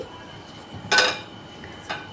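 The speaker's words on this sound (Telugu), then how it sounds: "ఒక ప్యాన్ పెట్టుకోవాలండి." A metal pan set down on a kitchen stove while preparing an Andhra-style okra fry gives two short, clear clanks about a second apart over quiet background hiss.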